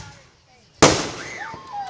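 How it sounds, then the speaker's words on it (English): Firework mortar shell bursts outdoors with a sudden loud boom and crackling spray, followed by fading whistling trails, with people talking nearby. "We're doing more mortar shells."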